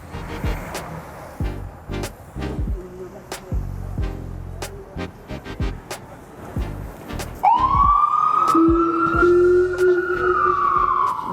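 An ambulance siren sweeps in loud and close partway through, wailing with a rising and falling tone over a busy city street where footsteps and traffic clatter beforehand.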